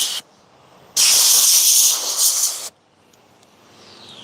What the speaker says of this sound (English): I do like to go a couple times. With the air compressor.